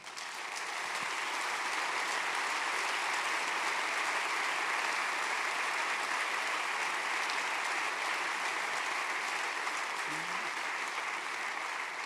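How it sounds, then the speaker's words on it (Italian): An audience applauds a speaker at the Terzani Prize ceremony with sustained, even clapping that holds at a steady level throughout, dense and continuous, with no voices standing out. "Un grande applauso per lui."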